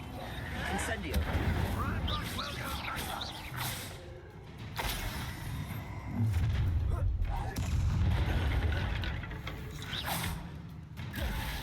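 An Incendio fire spell cast in the Hogwarts Legacy video game, with repeated whooshing bursts and crackling blasts of combat effects under a steady wash of game sound, while voices speak throughout.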